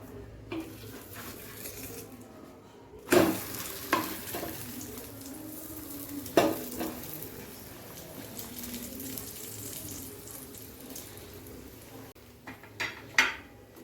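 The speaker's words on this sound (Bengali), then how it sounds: "সাদা তেল দিয়ে ফ্রাই করব।" A cauliflower paratha fries in white oil with a soft, continuous sizzle, broken by a few sharp clanks and scrapes of a spatula pressing it in the pan, with no one speaking.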